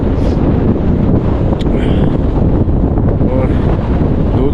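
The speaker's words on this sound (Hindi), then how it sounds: "इतनी तेज़ हवा चल रही है" Strong wind roars steadily across a snow-covered Himalayan mountain pass at about -7 to -8 degrees, buffeting the microphone with dense, continuous rumbling gusts and no let-up.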